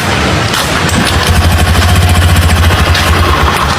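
A new motorcycle's engine runs steadily at close range, filled with Pertalite fuel suspected of being mixed with water at a filling station. Its rapid, even putter is loud and continuous, with no talk.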